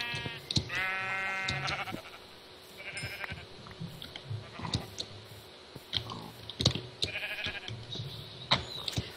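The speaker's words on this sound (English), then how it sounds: "Sheep." Sheep in the Minecraft video game bleat several times in short, nasal bursts, with soft chewing-like clicks between calls. The sounds come close and fairly loud, spread over several seconds, with no talk over them.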